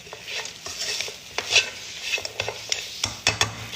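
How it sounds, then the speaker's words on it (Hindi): Dry mutton roast masala stirred in a pan over a low flame: a quiet simmering sizzle under frequent close scrapes and clacks of a spoon against the metal, uneven and busy, with no speech. "ये देखिए अच्छी तरह इसको मिक्स करूँगी"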